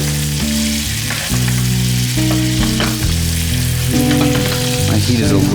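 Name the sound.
sage frying in a pan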